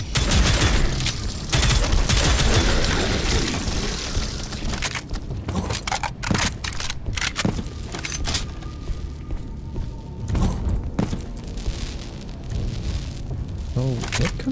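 Rapid gunfire from armed enemies in the shooter game Prodeus, dense bursts crackling loudly through a chaotic battle mix, heaviest early then continuing in scattered volleys alongside booms and impacts.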